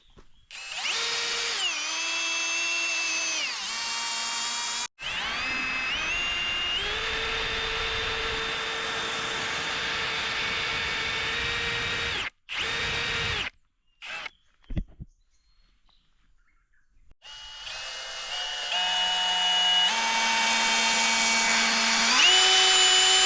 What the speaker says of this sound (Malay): Teknik pertama dia, kita tebuk lubang dulu.